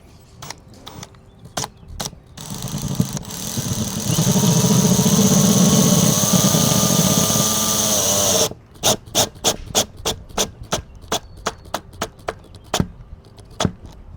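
A power driver runs in a steady whir that rises in pitch for a few seconds, driving screws into an aluminum skylight frame, followed by a series of sharp clicks and taps.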